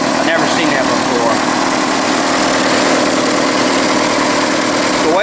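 A 1982 third-generation Camaro V8 idles loudly and steadily after its first start in twenty years, a dense rumbling drone close to the microphone, with someone talking over it.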